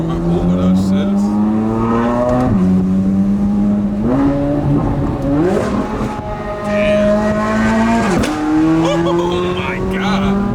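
A Chevrolet Corvette C8 Z06 fitted with a Yonristic exhaust warms up close by, its engine droning loudly with several sharp throttle blips and revs rising and falling.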